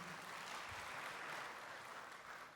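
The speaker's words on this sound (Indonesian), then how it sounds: "Boleh tepuk tangan yang meriah." Crowd applause at a political party inauguration event in East Java, a continuous wash of clapping heard faintly and at a distance.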